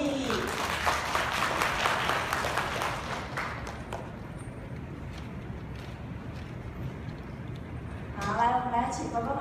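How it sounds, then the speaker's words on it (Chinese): Wedding guests break into a loud round of clapping that thins out after a few seconds into a low murmur, with voices rising again near the end. "麻烦掌声鼓励"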